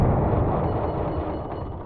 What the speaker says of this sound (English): So the flat cannon I organized to fire in bursts